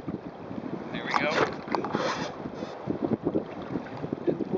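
Sailboat jibing downwind near Kelleys Island, with wind buffeting the microphone, rushing water along the hull and a surge of flapping sail noise, under some talk.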